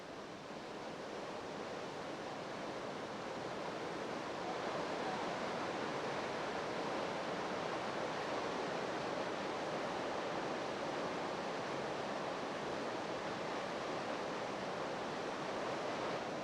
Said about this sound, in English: The guides here will tell you that these are the largest waterfalls in the world.